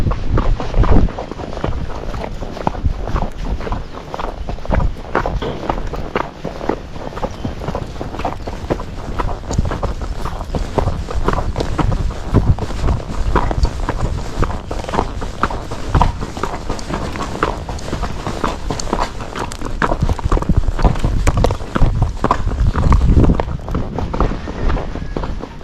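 Kentucky Mountain Horse named Lily walking around a barn, a steady run of hoofbeats and footsteps under constant wind noise and rustle, moderately close, with no pauses across the stretch.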